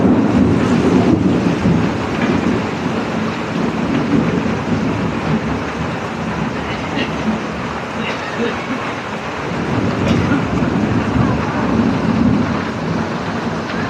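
Heavy rain pours steadily in a dense hiss, with low rumbles swelling now and then; no voices are heard.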